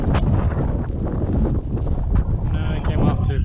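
Strong, gusty wind buffets the microphone out on a lake, a steady broadband roar with rumbling low-end gusts from a fishing kayak on Grindstone Lake, New Mexico.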